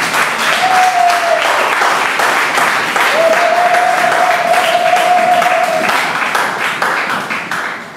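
A church congregation applauds and cheers the Lord, loud sustained clapping from a large crowd with a held vocal cry rising over it, steady for several seconds before easing off.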